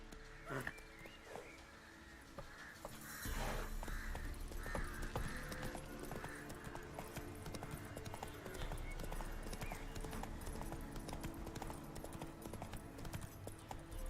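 Horse hooves clip-clop in a steady galloping rhythm through The Witcher 3 video game, continuous and fairly near, with a brief voice near the start and game ambience underneath.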